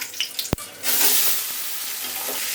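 A sharp click comes first, then oil in a hot pot bursts into a loud, steady sizzle as cardamom, cinnamon and bay leaves go in, close up and fading slightly, without speech.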